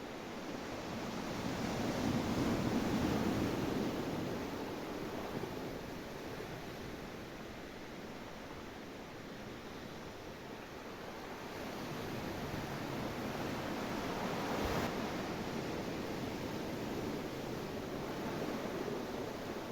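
Ocean waves rolling onto a beach, a steady broadband wash of surf that swells and recedes gently, continuous and moderately near with no voices.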